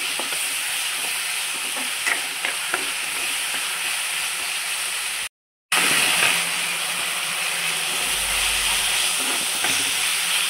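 Ginger and garlic fry in a pan for prawn curry with a steady, loud, close sizzle and hiss that runs nearly throughout, broken only by a brief dropout, with faint stirring scrapes.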